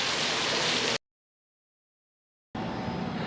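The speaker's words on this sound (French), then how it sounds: "il est en train de pleuvoir vraiment beaucoup" Heavy tropical storm rain pours down in Aruba as a dense, loud hiss, cut by a sudden silent gap of about a second and a half before resuming just as strongly.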